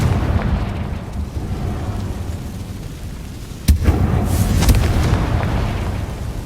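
The Confringo fire spell in Hogwarts Legacy sets off a sudden loud blast, followed by a rolling fiery burst over a dense, rumbling game soundscape.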